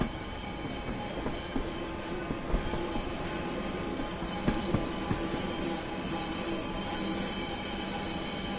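A train in Train Sim World 5 rumbles along the rails in a UK setting, a loud continuous drone with scattered clicks and clacks of wheels over joints rising above it, and no talk.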